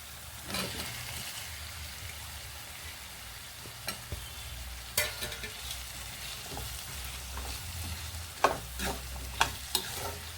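Potatoes frying in a pan for a Telugu potato and spinach curry give a quiet, steady sizzle, broken by irregular scrapes and clatters of stirring that grow busier toward the end, with no voices.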